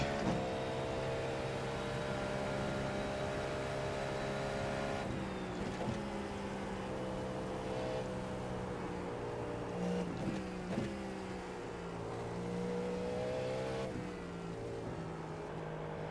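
Cadillac V-Series.R race car engine in iRacing, a steady loud high-revving drone with shifting pitch as it accelerates and changes gears, running continuously through traffic.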